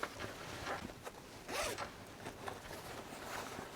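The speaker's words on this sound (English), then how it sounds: "then on this side we do have a zipper" Close, quiet zipper on a heated vest being pulled in several short rasping strokes, with light fabric rustling between them.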